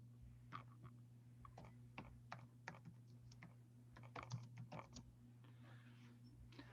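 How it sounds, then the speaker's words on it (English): Someone types on a computer keyboard during a housing trust meeting, producing quick irregular clicks and bursts of keystrokes over a steady low electrical hum, fairly close and faint. "I apologize for my typing skill"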